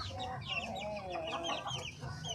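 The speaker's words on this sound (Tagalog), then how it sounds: "rooster na darag" Darag chickens cluck and chatter close by in a busy flock, overlapping calls from several birds, with a rooster among them and faint background noise.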